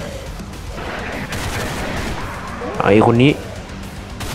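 Enemy gunfire in a 16-bit style video game crackles in a steady stream of shots under someone talking in Thai, with a louder burst of speech near the end.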